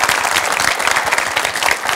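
A studio audience breaks into dense, sustained applause, many hands clapping loudly and steadily with no voices over it.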